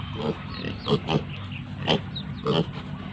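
Crossbreed and native piglets grunt and oink in short bursts, several close snorts spaced irregularly over a low background hum.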